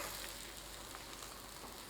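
Jianbing-style egg-filled flatbread frying over medium-low heat in a pan, giving a steady, soft sizzle throughout with no talking.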